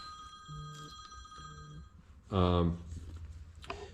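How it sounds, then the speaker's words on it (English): A mobile phone rings twice with short repeated electronic tones during a tractor engine rebuild in a workshop. A loud burst of speech follows. "Of course, my phone's gonna ring right now."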